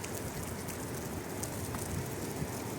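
Steady heavy rain falls during a typhoon in Xaisomboun, a constant dense wash of drops with no break, fairly close and alone without voices.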